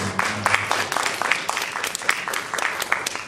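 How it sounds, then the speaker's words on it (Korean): A church congregation claps for a few seconds, a loose burst of applause that stays fairly even with sharp individual claps standing out. "이럴 때 우리 박수 한번 쳐줘야 돼요"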